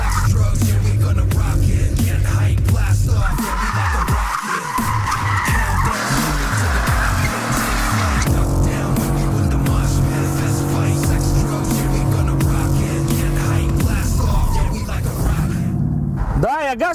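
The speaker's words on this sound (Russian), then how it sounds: "Но я давлю газ в пол, она вообще не едет." A Mercedes-AMG GT S struggles under full throttle, its engine droning loudly with squealing, skidding tires throughout, while people talk over it.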